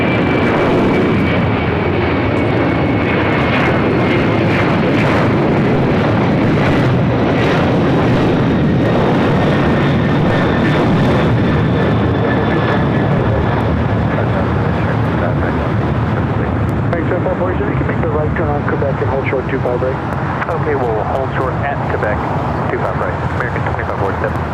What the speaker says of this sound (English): This is Cathay Pacific Cargo Flight 2081 taking off to Anchorage